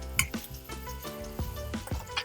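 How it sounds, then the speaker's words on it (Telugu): Chopped onions fry over a low flame while a metal spoon stirs and taps the pan, producing a soft sizzle punctuated by repeated clinks and scrapes, with no talking. "ఈ విధంగా మధ్య మధ్యలో తిప్పుకుంటూ వేయించుకోవాలండి లో ఫ్లేమ్లోనే వేయించుకోవాలి"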